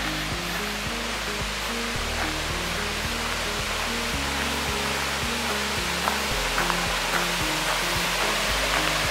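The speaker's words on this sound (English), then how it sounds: "you can actually hear the water rushing over here" River water rushes steadily beside a campsite at Greenbrier Campground in Gatlinburg, Tennessee, a constant broadband roar, close and unbroken, with no voices.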